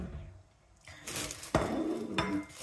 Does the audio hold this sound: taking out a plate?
yes